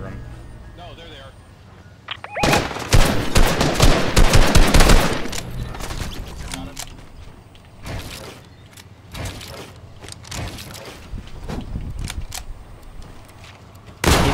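Gunfire in an online shooter game: bursts of rapid machine-gun fire and scattered single shots, loudest in a dense volley early on, with people talking over the action throughout.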